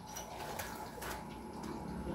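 Pigeons inside a loft cage, where young birds are being caught and trained to use a trapdoor, coo softly beneath a steady broadband rustle and hiss, with no talking.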